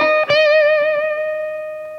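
An electric guitar on its bridge pickup drives an amp with distortion: one struck chord rings out bright and biting, then sustains and slowly fades with no talking.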